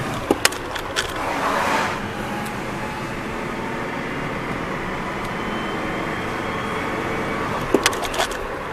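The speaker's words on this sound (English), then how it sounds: "we're up to 45 now in fourth gear" A 1993 Ford Ranger XLT Supercab 2WD cruising in fourth gear at about 45 mph, a steady broadband road and engine drone heard from inside the cab, with a few brief clicks at the start and end.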